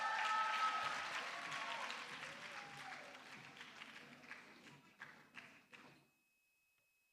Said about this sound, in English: Please don't stop clapping till they get here